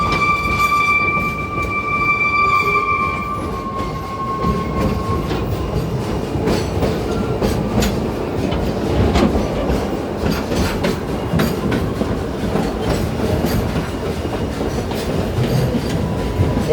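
Narrow gauge steam train of the White Pass and Yukon Railroad from Skagway, Alaska, heard on a ride: a long steady whistle at the start, then continuous rumbling wheels and rhythmic clickety-clack close by.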